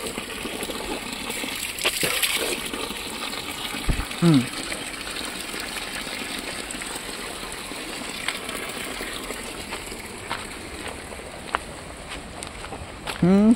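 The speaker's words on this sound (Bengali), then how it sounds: "এই যে এটা পানি বেরিয়েছে যে একদম শুদ্ধ পানি" Clear spring water flows out at a picnic spot in Meghalaya as a constant rushing, gushing wash, while people talk over it and a few small knocks and splashes cut through.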